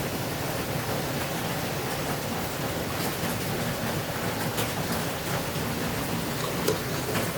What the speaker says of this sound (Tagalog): Sana matapos naman kung ulan.